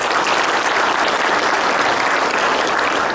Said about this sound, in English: So please give a round of applause to Terry and welcome him.